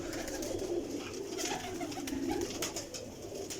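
Breeding pigeons coo softly in a loft, low murmuring calls repeating in a steady rumble, faint and fairly close, with light rustling over them.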